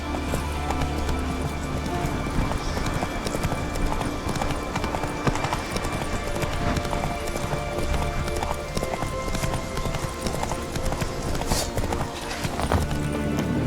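Roach the horse gallops through The Witcher 3 with steady, close hoofbeats pounding for the whole stretch, a brief whinny mixed in over ambient game sound.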